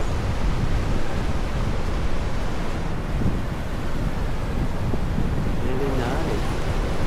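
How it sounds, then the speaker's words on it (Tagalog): Rough ocean surf at a Siargao surfing spot in the Philippines makes a constant close roar of crashing waves, mixed with wind buffeting the microphone. "Maalon, kaya pala surfing capital ang tawag nito. Kasi tingnan nyo, grabe ang waves."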